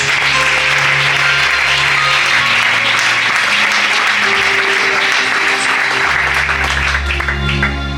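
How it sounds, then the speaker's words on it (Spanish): A church congregation claps loudly and continuously, a thick roar of hands that fills the space, while low sustained notes from an instrument hum beneath it. "Aplaude fuerte para Dios."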